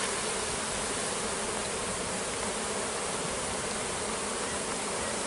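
Honeybee swarm buzzing at a hive, a dense steady hum of many bees close by, continuous and unbroken throughout, no talking.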